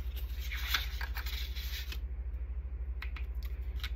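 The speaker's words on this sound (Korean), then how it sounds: "잘 드는 칼로 부드럽게 힘을 주시고 잘라주세요." A sharp craft knife slicing through a part of a DIY storage box kit, giving soft scraping cuts for about two seconds, then a few brief scratches, all over a steady low electrical hum.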